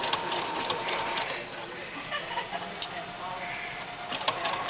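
Sewing machine stitching through a wrapped clothesline cord rug, a steady mechanical whir running throughout with a few brief clicks and bumps, heard close up with people talking over it.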